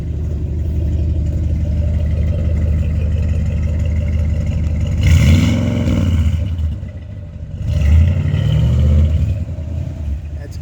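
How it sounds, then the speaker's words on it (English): A car engine idles with a rough, steady rumble, then swells twice in throttle blips as gas is given, each rev rising and falling before settling back to idle, loud and close. "So if my assistant could just give it a little gas."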